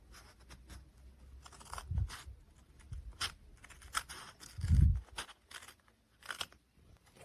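Scissors cut paper for a DIY winter phone case kit, with scattered crisp snips and crunches, a few louder handling thumps, close and alone.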